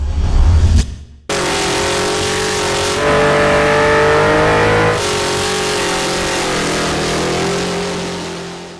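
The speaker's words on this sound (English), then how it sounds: "could we smoke a set of 37-inch boggers with the muscle truck?" A muscle truck on 37-inch Bogger tires roars loudly after a brief low rumble, then holds a sustained high-rpm rev through a burnout, the engine note shifting in pitch before slowly easing off near the end.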